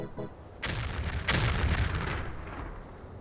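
Two explosions in the video game X-COM: Terror from the Deep, sharp booming bursts about half a second apart with a fading rumble after each.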